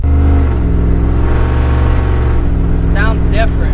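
A 6.0 Chevrolet Silverado with a new exhaust and cam idles loud and deep with a lumpy, throbbing rumble, holding near the microphone while a voice briefly speaks over it at the end.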